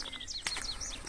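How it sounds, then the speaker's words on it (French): Birds chirp and tweet faintly at dusk over a low outdoor background hum, with several short calls scattered through the moment. "Vous voyez, on entend les oiseaux."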